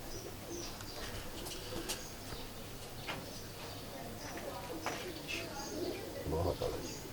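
Red-eyed pigeons of several breeds, both cocks and hens, coo softly and repeatedly at a steady level throughout, mixed with other bird chirps, with people talking nearby.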